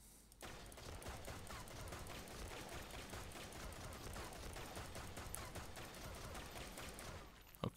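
The AK-47 Red Dragon in the shooter game Blackshot fires a long, dense automatic burst of rapid shots that sounds steady and fairly loud, beginning abruptly and stopping near the end.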